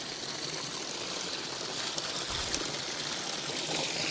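Water flows over the rocks of a koi pond waterfall in a steady, close, unbroken trickling rush, with a few faint splashes standing out.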